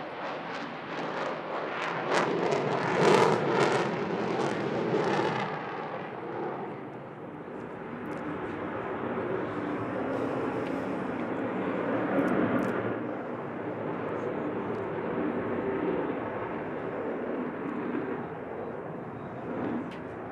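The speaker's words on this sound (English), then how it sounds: "That's the sound of 4 Rolls-Royce Bristol Olympus engines" A deep, rumbling roar of a Vulcan bomber's four Rolls-Royce Bristol Olympus jet engines at an air festival, loud and sustained, swelling at first then holding as a broad, distant-sounding thunder.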